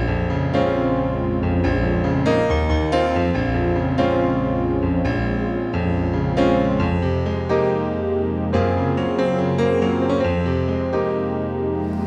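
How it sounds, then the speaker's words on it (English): Roland RD-800 stage piano playing a flowing passage of chords and melody with a warm pad layered underneath, sustained and full throughout with no voices. "So if you had like a straight piano sound like this, just instantly being able to put this in."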